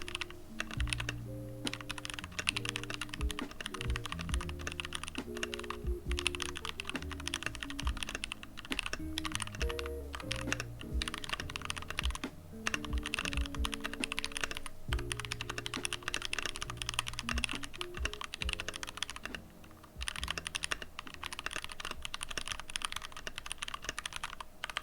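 Fast, steady clacking of typing-test keystrokes on a Keychron mechanical computer keyboard, close and crisp, continuous with only brief pauses and no talk.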